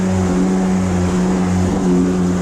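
A Yamaha WaveJammer jet ski with a 500cc motor running on open water, a loud steady droning engine tone with a slightly wavering pitch, close and continuous with no talk.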